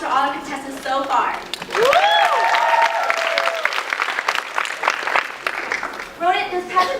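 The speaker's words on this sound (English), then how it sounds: "applause for all the contestants so far" An audience applauds and cheers for contestants at a scholarship pageant, crowd clapping building after an amplified voice, with loud whoops and shouts over the clapping and speech returning at the end.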